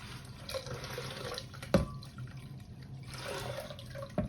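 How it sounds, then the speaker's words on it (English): Tap water runs steadily with splashing as a blender is rinsed, a few louder clunks of it handled in the sink, close by with no talking. "I have to rinse this out because I'm going to be pouring back the milk in the blender."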